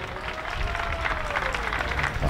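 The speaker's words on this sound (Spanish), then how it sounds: "vamos a entregarles ese aplauso fuerte y bonito" Crowd applause at a charro rodeo competition, a steady wash of distant clapping with a voice faintly heard over it.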